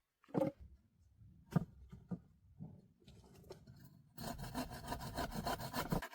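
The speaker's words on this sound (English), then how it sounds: "With careful strokes of the saw, he trims the wood to the exact length and angle needed." A hand saw cuts through a wooden log for a shelter door. Scattered rasping strokes come first, then a steady, loud run of close sawing fills the last two seconds.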